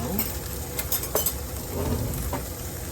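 Tomato paste sizzles and crackles in a hot pan while a utensil stirs it, a loud close steady frying hiss with brief scraping strokes.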